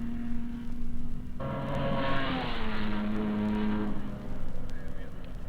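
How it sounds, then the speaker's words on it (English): Racing cars at the 1956 Sebring race, including Ferraris and an Aston Martin, drone and rev in a rising, sustained engine tone that fades back, heard at moderate distance with a steady background hum. "In third place on index is the Fangio Ferrari, fourth place Hawthorne, and in fifth place, number 18, the Musso Ferrari"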